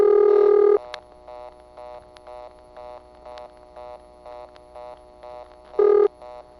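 A 1982 Siemens motor telephone switch in Ocala-Silver Springs, Florida sounds its tones: a loud steady tone, then a regular series of short repeated beeps at an even rhythm, and the loud tone again near the end.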